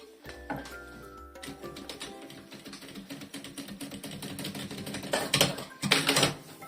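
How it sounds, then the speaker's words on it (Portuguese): A sewing machine runs a seam along the edge of a small piece of faux leather (napa) for a toiletry bag, with rapid rhythmic needle clatter in bursts that grow louder toward the end. "vou fazer uma costura à beirinha"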